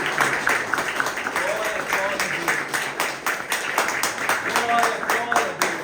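A church congregation clapping hands in praise during a worship service, a steady rhythmic run of claps under voices singing and speaking throughout.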